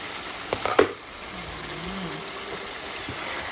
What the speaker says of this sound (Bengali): অনেকক্ষণ থেকে কষাইতেছি আরো হয়তো 5 মিনিট কষাবো